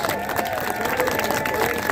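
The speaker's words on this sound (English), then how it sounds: "Let's give them a round of applause." A crowd at an outdoor historical reenactment applauds in a dense, steady burst of clapping that holds at full strength, with a few voices mixed in.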